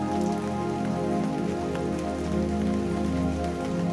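Steady rain patters densely on a surface, even and continuous, with soft sustained musical tones droning underneath.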